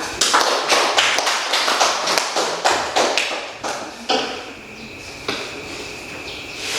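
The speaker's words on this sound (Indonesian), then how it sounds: "Kita berikan aplaus kepada kelompok 2." A classroom of students applauds a student group, many hands clapping together in a dense, lively burst that thins into scattered claps toward the end.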